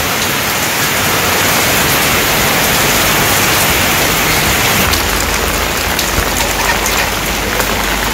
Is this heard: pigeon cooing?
no